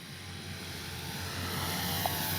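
An Avios Extra NG radio-controlled airplane flies with a steady, moderately loud engine drone that holds constant throughout, with a slight rise in level toward the end and no talk.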